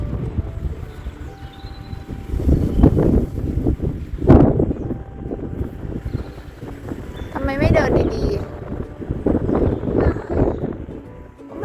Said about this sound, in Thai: ลมมากเลยลูก